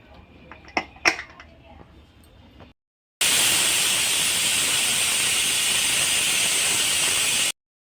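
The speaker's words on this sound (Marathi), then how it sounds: "आपल्या कुकरच्या 2 शिट्ट्या झालेल्या आहेत" A pressure cooker cooking chicken on a gas flame releases a loud, sustained rush of hissing steam for several seconds, after a short stretch of quieter clatter and voice.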